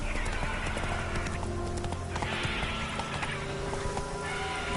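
In The Witcher 3, the horse Roach gallops at full pace with rapid, rhythmic hoofbeats, loud and close over game ambience, with a whinny mixed in.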